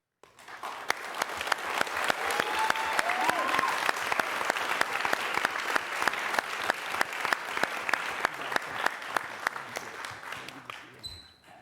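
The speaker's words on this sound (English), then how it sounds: "So you all clapped" Sustained audience applause fills a city council meeting in Thousand Oaks, California, steady clapping from a crowd in a large room lasting about eleven seconds before tapering off.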